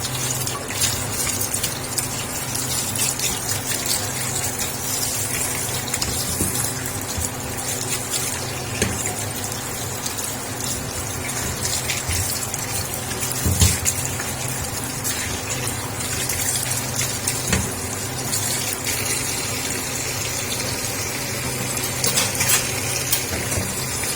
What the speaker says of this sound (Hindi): से बहुत ज़्यादा निकले करेलों के अंदर से वॉश कर लेंगे हम